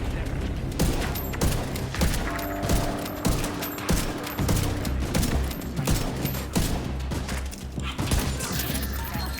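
Video game gunfire from a Virginian 1886 and a revolver, a rapid, dense run of close shots and mechanical clicks that repeats without pause over a backdrop of game noise.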